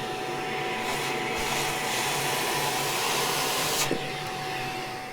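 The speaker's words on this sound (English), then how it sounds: "we just give that a quick hoover to hoover up all the debris" A vacuum cleaner hoovers up cork debris from a model railway baseboard, a steady close, loud whooshing drone running throughout with a brief rattle near the end as bits are sucked in.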